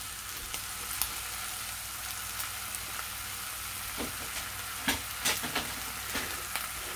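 Bread fries in a pan with maple syrup, giving a steady close sizzle throughout, with a few brief scrapes and stirring clicks near the end and no talking.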